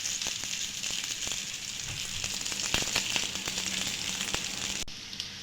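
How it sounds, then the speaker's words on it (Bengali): A vegetable cake fries steadily in a pan, a continuous close sizzle with scattered crackles and light pops that drops off abruptly near the end; no one speaks. "কেকটা আমার এক সাইড ভাজা হয়ে গিয়েছে, অন্য সাইডটা উল্টে দেবো"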